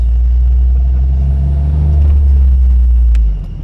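A Jeep rumbles along a ranch trail with a loud, close, low engine drone and a slight rise in revs, then fades off at the very end; no talking.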